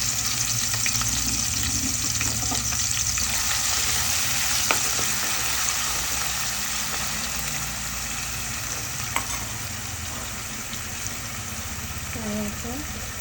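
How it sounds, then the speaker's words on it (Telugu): Ground masala frying in oil in a cooking pot, a steady close sizzle and crackle running throughout with faint stirring clinks and a brief voice near the end. "అందులో ఆయిల్ పోసుకుని ఇది కొట్టుకున్న మసాలా ఉంది కదా అందులో వేసుకుని దోరగా వేయించుకోవాలి."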